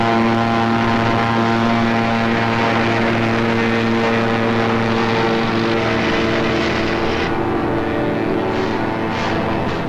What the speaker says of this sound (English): High overhead, British fighter planes fought the Luftwaffe to a standstill.